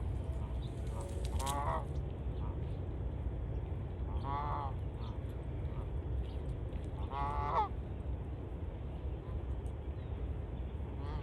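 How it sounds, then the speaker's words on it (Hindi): Waterfowl in a park give several honking, quacking calls in short bursts at moderate distance over a steady outdoor hum, with no talk heard. "ये देखिए डक्स हैं यहाँ पे कितनी सारी।"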